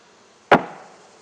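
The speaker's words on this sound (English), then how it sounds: "Knock the bees off of it." A single sharp knock as a beehive frame is struck to shake bees off, a close wooden thud with a short decaying tail against a quiet background.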